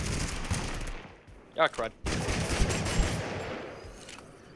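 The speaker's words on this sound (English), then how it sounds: "I missed my second AK shots." Rapid AK rifle gunfire in the video game Totally Accurate Battlegrounds, dense crackling bursts before and after a brief pause, with a short spoken exclamation in the gap.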